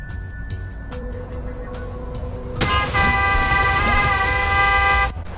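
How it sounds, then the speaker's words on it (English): Several short truck horn beeps in a video game, then a long, loud blaring horn with an engine underneath, cutting off abruptly near the end. "trucks beeping ridiculously, driving around with their loud screeching of the tires and crashing"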